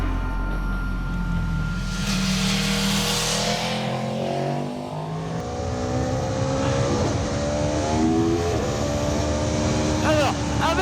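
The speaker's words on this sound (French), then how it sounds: "Je vais faire un passage avec la sportive, puis avec le roadster, pour voir lequel accélère le plus fort" An Aprilia RSV4 sport motorcycle accelerates past at about 139 km/h, its engine rising loudly as it approaches and then fading away, with a rider's voice heard over the passing.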